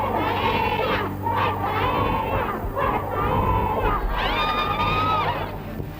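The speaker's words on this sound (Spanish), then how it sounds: "Llevan aquí casi media hora gritando consignas a favor de su comandante en jefe" A crowd of wives, daughters and mothers of Chilean Air Force members chants slogans for their commander in chief outside the Ministry of Defense, with loud, sustained massed voices rising and falling in rhythmic shouts.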